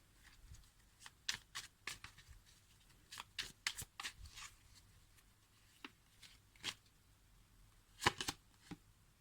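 A deck of tarot cards is shuffled by hand in quiet, irregular bursts of crisp riffling and tapping, with short pauses between and no voices.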